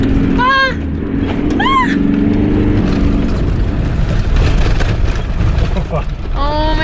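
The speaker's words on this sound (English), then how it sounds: "Dan thought it would be a good idea to drive a few laps in the mud." A vehicle grinds through mud laps at a camping spot in the Victorian Alps, its engine a loud, continuous churning rumble, while short excited shouts burst out near the start and again at the end.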